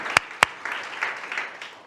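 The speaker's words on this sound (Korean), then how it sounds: "우리 하나님 앞에 큰 박수로 영광 올려드리겠습니다." A church congregation claps during a Sunday worship service: two sharp, close claps open a brief, dense burst of applause from many people.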